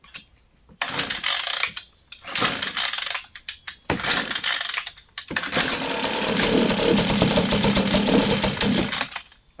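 A Hangkai 3.6 hp outboard motor is pull-started in short bursts, with a few brief mechanical rattles, then catches and runs steadily with a loud, close buzzing drone.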